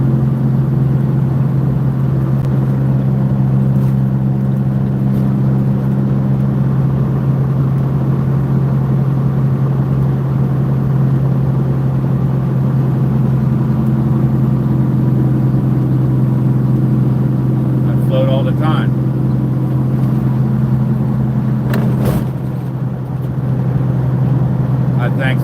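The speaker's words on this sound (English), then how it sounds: "Yeah, Peterbilt 379." A Peterbilt 379 truck engine runs as a loud, steady low rumble, heard from inside the cab, with a voice talking over it and brief clicks near the end.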